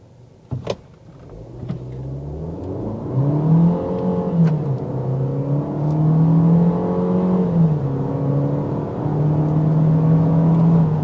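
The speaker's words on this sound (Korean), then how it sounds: "주행을 시작하기에 앞서서 이제 가속 테스트를 한 번만 좀 해 보겠습니다." SsangYong Torres SUV pulls away hard in a night acceleration test, a couple of clicks giving way to a steady engine drone that climbs in pitch through each gear, dips at the shifts and rises again, loud and close from inside the cabin.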